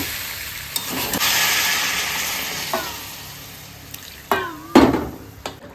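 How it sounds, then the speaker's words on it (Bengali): Hot water is poured into a pan of potatoes being fried with spices, setting off a loud hiss and bubbling. It fades into steadier sizzling, then sharp clinks of a utensil against the pan near the end. "এবার জল দেবো, গরম জল করেছি ওখানে"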